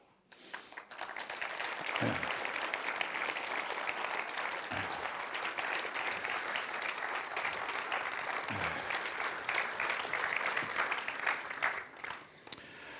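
An audience applauds a panel as it is welcomed onto the stage at a GoMA Talks discussion in a gallery venue, with steady sustained clapping that fills the room for most of the span before tapering off near the end.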